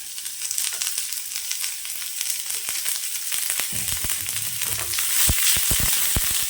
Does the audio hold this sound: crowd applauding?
no